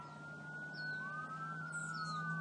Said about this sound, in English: Oh, we've got plein air sirens going.